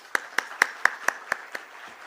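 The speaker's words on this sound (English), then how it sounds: "I would request the audience to keep applauding for them" Audience clapping at a stock exchange listing ceremony for GNG Electronics Limited: about seven sharp, evenly spaced claps in a steady rhythm, fairly close and clear, with no talking.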